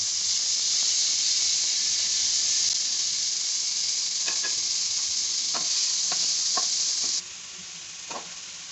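Okra sizzles loudly in a frying pan with red chili and tomato, a steady hiss with occasional stirring clicks, then the frying noise drops off abruptly near the end.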